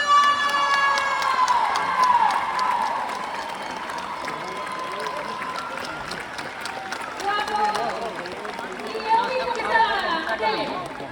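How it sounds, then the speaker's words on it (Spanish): A large crowd at a concert in Ribeira cheers and claps steadily, with shouting children and loud voices over a continuous wash of applause. "Queremos que lle dedes un aplauso moi forte a Iago Pico!"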